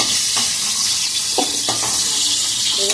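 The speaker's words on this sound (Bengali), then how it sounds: "এবার একটু নাড়াচাড়া দিয়ে এবার নামাবো" Fried potato, pointed gourd and spiny gourd are stirred in a hot pan with a loud, continuous oil sizzle and a few distinct scraping strokes of the spatula, close by.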